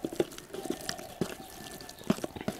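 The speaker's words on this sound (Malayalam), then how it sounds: "ഇത്രയും തൈരും കൂടി അതിലേക്ക് ഒഴിക്കുക എന്നിട്ടൊന്ന് ഇളക്കുക" Yogurt is stirred into chicken tandoori masala by a riverside, giving a string of wet, squelchy clicks and soft taps in an irregular rhythm, close and moderately loud.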